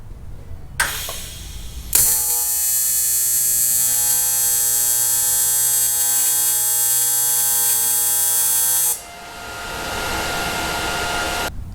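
A welder tacks a semi truck fuel tank lid for an International Loadstar with a steady, loud electric buzz and crackle that holds for about seven seconds, then cuts off sharply to a quieter background.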